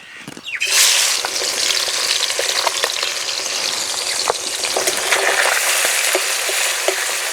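Puti fish drop into smoking hot mustard oil with a sudden loud burst of sizzling that settles into steady, close frying crackle, dotted with small pops and light scrapes.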